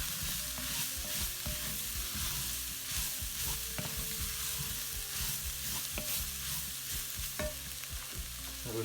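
Carrot chunks fry with a steady, close sizzle in a pan while being stirred, with soft scraping and knocking of the utensil throughout.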